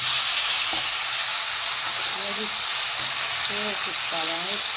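Parathas fry on a hot pan with a loud, steady sizzle and hiss throughout, while a faint voice briefly sounds in the background.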